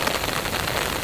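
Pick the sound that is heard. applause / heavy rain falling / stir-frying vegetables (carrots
heavy rain falling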